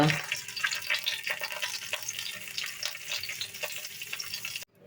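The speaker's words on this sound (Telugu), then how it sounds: "నెయ్యి వేడైన తర్వాత తాలింపు గింజలు తాలింపు గింజలు వేగిన తర్వాత ఎండుమిర్చి కరివేపాకు" Steady crackling sizzle of tempering seeds, dried red chillies, curry leaves and asafoetida frying in hot ghee for rasam, continuous and close, ending in an abrupt cut to near silence.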